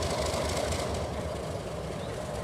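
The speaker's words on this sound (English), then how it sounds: "our train crosses the diamond before reversing down Blue Star Spur." A model train with Alco diesel power crosses the diamond at Eagle Junction on a layout, giving a steady close rumble and rattle of wheels over the crossing throughout.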